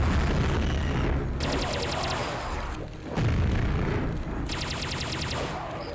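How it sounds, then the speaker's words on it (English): Laser cannon fire against enemies in Quake: Scourge of Armagon, with two loud bursts of rapid-fire zapping shots each followed by heavy booming impacts and lingering rumble. "I use the laser cannon on them."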